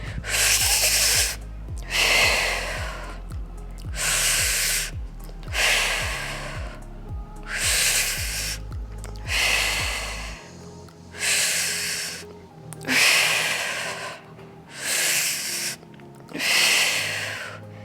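Slow, deep breathing during a core activation exercise for pregnancy, with roughly eight long airy breaths in a steady rhythm, close to the microphone, over a low background tone.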